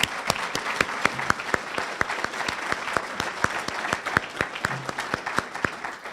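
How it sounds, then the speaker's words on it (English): Audience at a community heroes celebration applauding, with sharp individual claps standing out over a softer wash of clapping in a steady, irregular rhythm. "So one more round of applause for all of you in the room."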